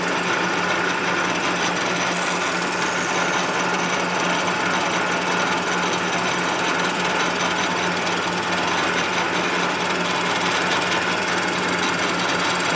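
A clamped machine cutter bites into a 1958 or 1960 Harley-Davidson panhead cylinder head, producing a continuous harsh, vibrating chatter over a steady mechanical whine, loud and close throughout.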